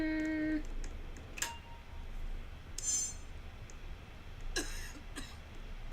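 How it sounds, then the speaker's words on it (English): A few short coughs and throat-clearing sounds, separated by pauses, with faint clicks and a soft background hum. "Oh, you're coughing."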